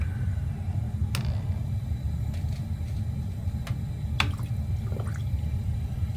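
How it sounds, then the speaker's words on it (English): Steady low rumbling wash of water flowing from a water heater drain, continuous and fairly loud, with a few faint clicks and drips on top. "I'm looking at the flow of water."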